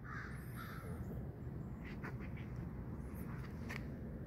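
Crows caw several times at a moderate distance outdoors on a quiet Saturday morning, harsh repeated calls over a steady background hum.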